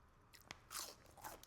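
A few crisp, close crunches of someone biting into crunchy fried mussels, quiet and brief, with no voices.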